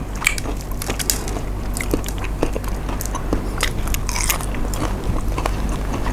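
Fried soft-shell crab with garlic crunched in dense, close bites and chewing, continuous loud crackling with no pauses.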